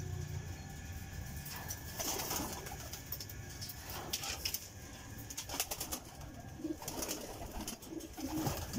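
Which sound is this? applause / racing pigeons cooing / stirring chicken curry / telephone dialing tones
racing pigeons cooing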